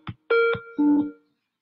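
A telephone being dialed gives a few short electronic tones in quick succession, clear and close, with silence after.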